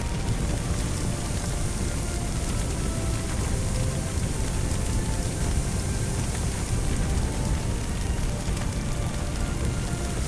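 Steady, dense spray of water from a fire hose in a firefighting video game, a continuous hiss like heavy rain on a surface, even and close with no talking.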